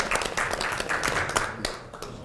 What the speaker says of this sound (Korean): 김은남 최고위원님께 그동안 감사와 격려의 박수 한번 보내주십시오.